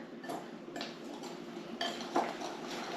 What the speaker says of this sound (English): I'm going to whisk these 3 things together